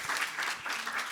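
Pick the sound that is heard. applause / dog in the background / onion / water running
applause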